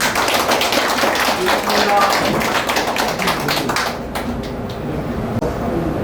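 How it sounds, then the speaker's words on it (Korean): A crowd applauds in a dense, continuous patter of clapping, with voices audible underneath before it thins out. "대단히 박수로 환영해 주십시오"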